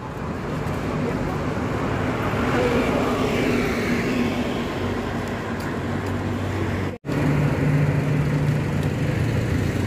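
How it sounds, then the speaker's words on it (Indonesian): A Sinar Jaya bus rolls into a petrol station at night, its broad engine roar and road noise swelling and lingering close by, with a brief cut partway through. "kedatangan bus Sinar Jaya"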